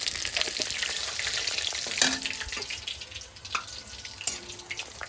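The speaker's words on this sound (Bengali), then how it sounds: "তেল দিয়ে দেবো জিরে" Cumin seeds and fresh bay leaves fry in hot oil in a home kitchen for a Bengali fish dish, giving a steady close hiss and crackle with a few sharp clinks from stirring.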